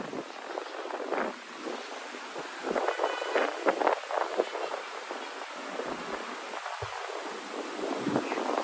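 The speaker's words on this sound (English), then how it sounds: "I can't get over how windy it is over here." Strong wind roars and buffets steadily against the microphone, gusting louder at times, with no voices, outdoors at Memorial Plaza among white swamp oak trees in Jersey City.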